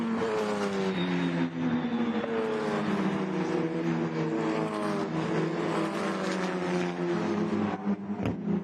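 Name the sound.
Formula Regional race cars racing on track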